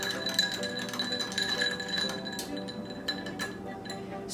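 Ice clinks against glass as a bourbon cocktail made with Maker's Mark is stirred, with light repeated chiming taps and rattles at close range and no talking.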